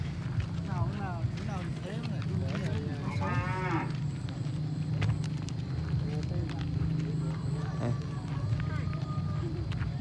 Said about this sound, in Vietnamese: mình đi ra đây chơi cùng chú trâu này cho nó vui các bạn